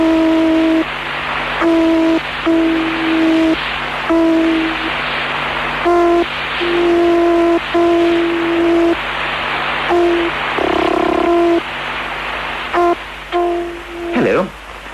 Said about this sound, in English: That noise you can hear was recorded on the 16th of May, 1960. And it's the voice of Sputnik 4, the Russian satellite which was then orbiting the Earth.